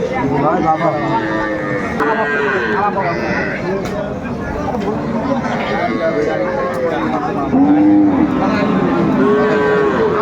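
Cows and calves mooing repeatedly at a busy cattle market in Aftabganj, Dinajpur, with several loud, drawn-out lows rising over constant crowd chatter and bargaining voices.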